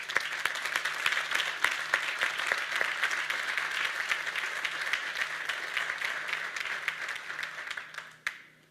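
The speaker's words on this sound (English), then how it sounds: "another round of applause" A crowd at a public transit event applauds Metro employees. The steady, sustained clapping fills the room at moderate volume, then tapers off near the end.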